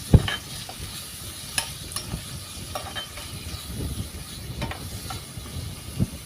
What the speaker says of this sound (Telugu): ఉల్లిపాయ ముక్కలు కొంచెం వేగనిద్దాము